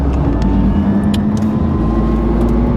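An Alpine A390 car driving down a straight, engine and road noise droning loud and steady throughout, with a faint tonal whine as it approaches braking at the end of the straight; no talk.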